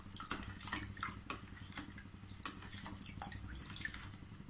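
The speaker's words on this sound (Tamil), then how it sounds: "கொஞ்சமாக தண்ணி ஆட் பண்ணிக்கோங்க," Small amount of water dripping and trickling into yogurt for mor kulambu, a soft, continuous, faint splashing with small irregular drops.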